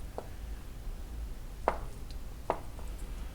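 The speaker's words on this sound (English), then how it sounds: "So yeah, I just cut it into fairly large cubes." Firm tofu being cut into large cubes with a kitchen knife for chicken mapo tofu, with two soft, distinct knife strikes against a cutting board over a faint background hum and no talking.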